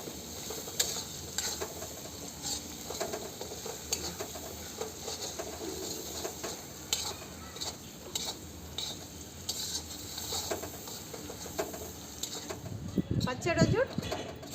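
Chutney is stirred into a sizzling tempering in a pan, with steady frying hiss and repeated scraping stirs of a utensil, a louder burst of sizzle near the end, and faint background voices.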